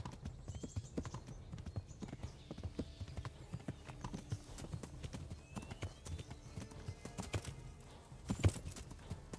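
Soft, rapid hoofbeats of a horse in the video game Kingdom Come: Deliverance patter in an irregular galloping rhythm, fairly quiet, with a louder thud near the end.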